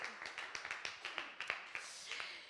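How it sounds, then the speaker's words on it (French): Scattered clapping from a modest audience, individual claps distinct and uneven, steady for a few seconds. "Je vous remercie de les applaudir."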